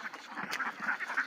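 Ducks on a duck farm quacking in a busy, overlapping chorus, close by and fairly quiet, with no one speaking.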